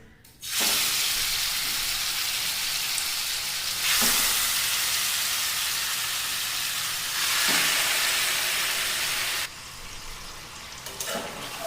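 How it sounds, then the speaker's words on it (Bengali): Chicken pieces dropped into hot oil in a kadai, a loud, dense sizzle that stays close and steady, swelling in waves at a few points as the pieces are moved. "এবারে আমি চিকেনগুলো এই তেলের মধ্যে দিয়ে দিচ্ছি"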